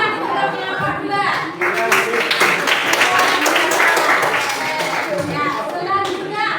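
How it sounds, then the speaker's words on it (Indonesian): Students in a middle-school classroom clap for a presenting group, a lively mix of uneven hand claps with children chattering and calling out around them. "Tepuk tangan untuk kelompok 2."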